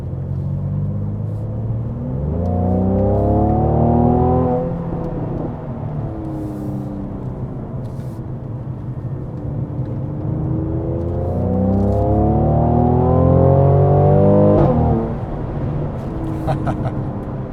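A Mercedes-AMG C43 at full throttle: engine note rising strongly through the gears in two long acceleration runs, with quick shift breaks between climbs, loud and close with road rumble beneath.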